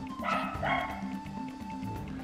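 A dog barks and yips in the background of a live game stream, a few short woofs at moderate level over a steady hum.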